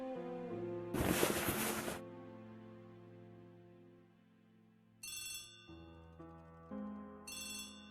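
A telephone rings in the Agatha Christie The ABC Murders video game: a bright electronic ringtone in short repeated bursts over a soft, sustained musical tone, with a sharper noisy burst early on.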